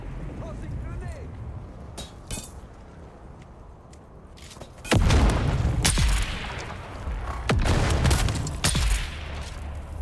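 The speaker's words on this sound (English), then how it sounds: "Tossing grenade." A grenade blast goes off in an online roleplay shooter game, a sudden loud boom followed by a second heavy explosion a few seconds later, with scattered gunfire and footsteps around them and a voice talking.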